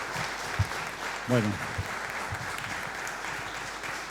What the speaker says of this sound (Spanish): Así que le damos un gran aplauso